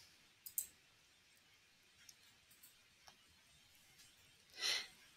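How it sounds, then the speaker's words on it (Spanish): Sparse, faint clicks of a computer mouse on a quiet desk, a few isolated taps spread out, with a soft breathy rustle near the end and no speech. "Finalmente le vamos a dar clic en guardar cambios."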